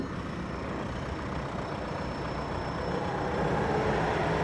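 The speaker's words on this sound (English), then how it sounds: "Just got into this TDI to drive it in," A TDI diesel car engine runs steadily from inside the car, a continuous broad rumble that grows slightly louder toward the end.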